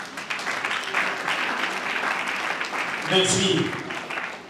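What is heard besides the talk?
applause at a funeral service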